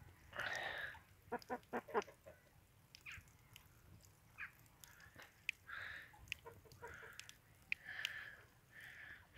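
A sick hen clucks in short bursts while being bathed in cold tap water, the calls near and fairly quiet, with soft splashing and handling noises between them.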